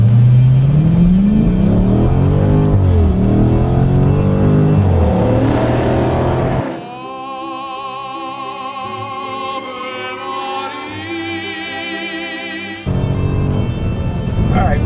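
A Dodge Daytona on a test drive revs hard through rising and falling engine pitches before dropping to a steadier, lower cruising drone, all loud and close from inside the car.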